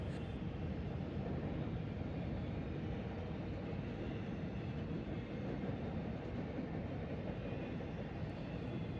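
A Norfolk Southern train rumbles past close by on the mainline through Kentucky, a continuous heavy roar of wheels and rails that holds steady for the whole stretch with no voices.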